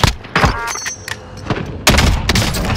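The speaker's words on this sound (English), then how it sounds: "Ah, they're sniping at me." Sharp sniper gunfire and impact bursts in the Call of Duty Modern Warfare video game, several loud cracks and booms spaced irregularly across a short, busy stretch.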